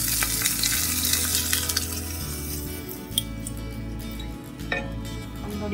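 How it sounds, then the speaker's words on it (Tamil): Curry leaves crackle and fry in hot oil for brinjal pitlai, a steady close sizzle with a few sharp pops and faint utensil clinks, no voices. "கருகப்பிலை கொஞ்சம் பொரியட்டும்."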